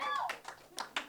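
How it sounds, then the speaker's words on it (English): An audience claps for a poet at a concert, a few scattered, separate claps rather than a full ovation, fairly faint, following a short trailing bit of voice at the start. "I would like us to really clap for him for that."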